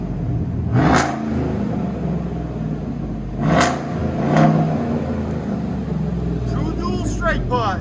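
A 2017 Chevy Silverado 5.3L V8 with true dual straight-pipe exhaust revs in a few sharp bursts over a steady idle rumble, with people talking faintly near the end.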